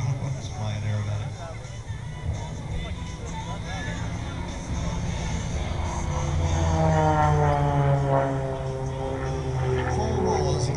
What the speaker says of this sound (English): look at the rapid roll rate of that airplane, unbelievable